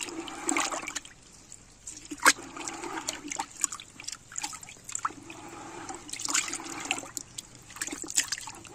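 Water left from washing and soaking rice is poured into a drum outdoors, trickling and splashing at close range in uneven bursts, with no talk.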